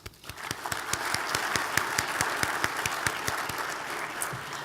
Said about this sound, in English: Please join me in a round of applause for their support.